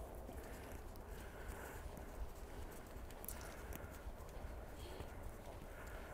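Horse hooves clip-clop at a steady walking pace, fairly quiet, over a soft outdoor background.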